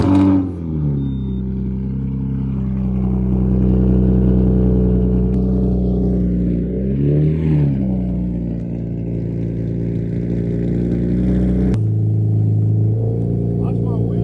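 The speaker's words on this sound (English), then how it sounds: "Start the car." Infiniti G37 engine with a steady mid-pitched idle and a swelling rev partway through, close and fairly loud, with a shift in tone near the end.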